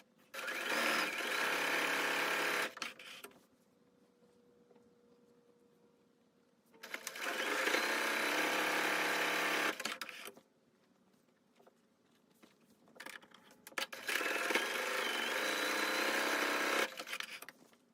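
A sewing machine stitches darts in fabric in three loud, steady bursts of a few seconds each, separated by quiet pauses.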